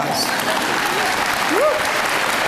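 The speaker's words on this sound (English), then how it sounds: "Let's give him a round of applause." Audience at a graduation ceremony breaks into dense, steady applause that fills the whole moment, with a brief whoop rising over the clapping.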